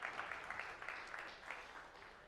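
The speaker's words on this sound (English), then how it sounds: "can we just clap for the ozone layer?" A live audience claps together in applause during a talk, a steady wash of many hands with slightly rising bursts, fairly faint and continuous throughout.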